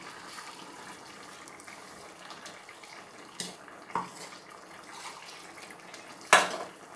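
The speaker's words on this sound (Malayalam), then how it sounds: "ഇനി ഇതിലേക്ക് ഈ അരപ്പ് കൂടി ഒഴിച്ചു കൊടുക്കുകയാണ്" Ground coconut paste poured into a pot of boiling tamarind curry for breadfruit (kadachakka) theeyal: a soft, steady wet pour and simmer with a few sharp utensil clinks against the pot, close up and without speech.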